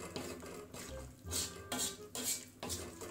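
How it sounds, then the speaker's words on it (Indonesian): Instant noodles tossed with seasoning, a utensil clinking and scraping against a bowl in quick, rhythmic strokes, close and fairly quiet. "Lalu kita aduk biar bumbunya merata, kencang-kencang."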